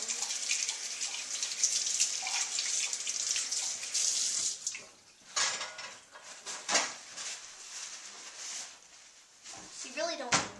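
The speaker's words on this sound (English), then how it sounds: "Now I'm just going to go wash my hands." Water runs from a tap during handwashing, a close steady hiss that breaks into uneven splashing and trickling as hands move under the stream, with a voice briefly audible.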